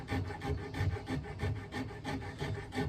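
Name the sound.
small rasp filing wood, shaping guitar neck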